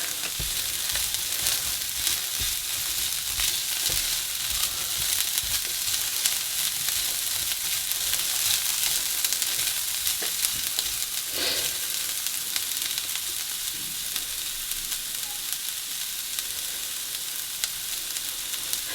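Egg fried rice with cauliflower rice sizzles steadily in a hot pan, a dense continuous crackle close to the microphone with occasional stirring scrapes and no talking.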